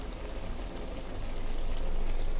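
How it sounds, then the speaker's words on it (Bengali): Chicken and potatoes frying in hot oil give a dense, steady sizzle that thickens and grows slightly louder over a couple of seconds, close and alone. "আর এদিকে চিকেন আর আলু তেলে ভাজতেছি"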